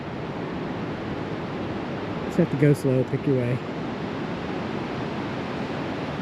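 Water rushes beneath boulders along a rocky mountain trail in Alaska's Hatcher Pass, a constant broad hiss-like roar close by, briefly overlaid by a person speaking a short phrase.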